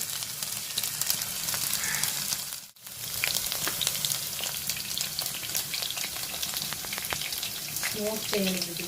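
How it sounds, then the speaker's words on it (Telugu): Chicken bread omelette pieces deep frying in hot oil, a steady dense crackling sizzle throughout, briefly cut out for a moment near the start before resuming at full strength. "గోల్డెన్ కలర్లో వచ్చినంత వరకు మనకి ఫ్రై చేసుకోవాలండి"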